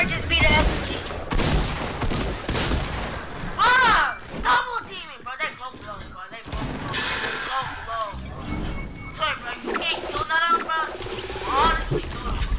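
Fortnite gunfights with SCAR and SMG fire: rapid bursts and clattering shots mixed with mechanical game effects, heard under frequent excited talking throughout.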